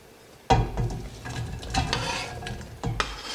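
Onion, with celery and carrots, cooks in hot olive oil in a pot, giving a soft sizzle broken by a few sharp scrapes and clunks of a spoon against the pot, close up and without talk.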